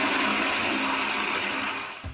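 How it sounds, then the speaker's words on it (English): A toilet flushing in one steady rushing wash of water that holds loud for about two seconds, then tails off with a short gurgle at the end. "members of the community are more commonly obsessed with the actual sound of the flush"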